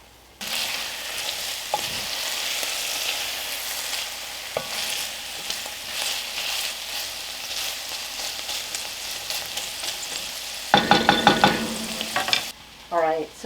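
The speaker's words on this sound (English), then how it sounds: "I'm going to let the onions and the bacon cook together until they're nice and" Onions and bacon frying together in butter, a continuous close sizzle and crackle with occasional utensil stirs, brief sharp scraping and clatter near the end, no voices.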